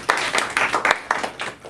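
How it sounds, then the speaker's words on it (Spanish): A classroom of students gives a round of applause for a classmate: quick, uneven clapping from many hands at moderate loudness, lasting under two seconds with no talking over it. "Un aplauso para Ethan, clase."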